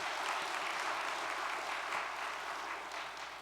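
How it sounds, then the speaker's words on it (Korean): Sustained audience applause fills a hall during a religious lecture, a dense, steady wash of many hands clapping at an even level, tapering slightly toward the end, with no voices on top. "우리 독생녀 참 어머님께 감사의 박수를 한번 올려주시기 바랍니다"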